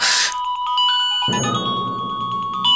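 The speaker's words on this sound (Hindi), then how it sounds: "किसका फोन है बेटा?" A phone ringtone plays loudly and alone, a repeating electronic melody that starts after a short burst of noise and fills the room.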